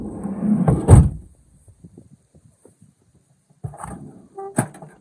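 A 1996 Dodge Caravan sliding door latch clunks with its new handle and the door rolls with a heavy thud, followed by quiet handling clicks and another metallic latch clack.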